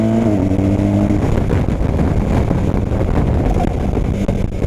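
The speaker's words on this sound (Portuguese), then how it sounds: "o quick shifter ele dá um pique no motor, dá uma apagadinha e volta logo em seguida" A BMW R 1250 GS motorcycle engine revs and pulls close up, dropping pitch at a quick-shifter upshift and then building again under strong wind noise.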